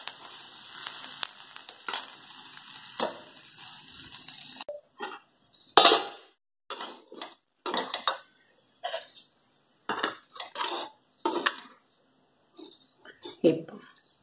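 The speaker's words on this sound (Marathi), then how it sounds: "खलबत्त्यात खूप छान होतं." Green chillies are pounded in a stone mortar and pestle for thecha, irregular heavy thumps in bursts following a stretch of soft pan sizzle, with brief talk.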